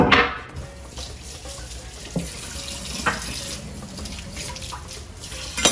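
Running kitchen tap water pours steadily into a sink as a cooking station and knife are rinsed, a continuous close splashing flow with small clinks, no talk.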